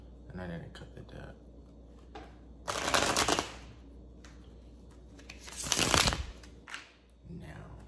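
A deck of tarot cards is shuffled in two loud, close riffling bursts of about a second each, separated by quieter handling noises, with someone speaking briefly around them.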